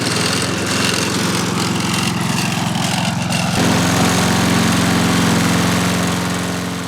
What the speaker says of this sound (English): A pushing lawnmower like this is it's noisy as hell.